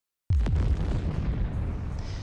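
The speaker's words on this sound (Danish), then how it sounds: "så tilintetgør vi hinanden i en kæmpe eksplosion" A single loud explosion bursts in sharply after a brief silence, a deep boom that rolls into a long rumbling decay, standing alone with no voices.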